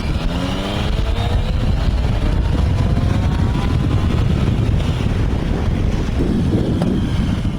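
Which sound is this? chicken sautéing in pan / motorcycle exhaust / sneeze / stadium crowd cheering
motorcycle exhaust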